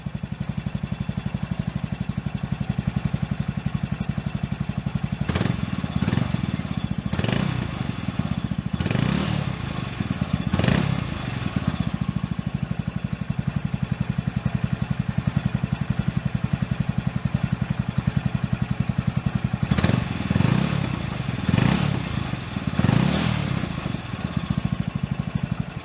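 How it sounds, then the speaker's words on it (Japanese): A Honda Grom motorcycle fitted with a high-compression piston and high-lift cam runs with a steady engine drone, with a metallic knocking and clatter heard inside the engine sound. Several sharper bursts rise out of it, near and loud, with no talk. "エンジン音の中に、打撃音が聞こえると思います。"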